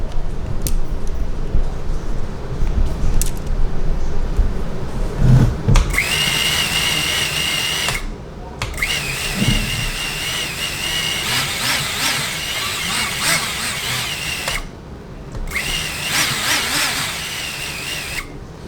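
Small racing drone motors whine up to a high-pitched buzz in bursts, spinning for a few seconds, cutting out briefly, then revving again, loud and close.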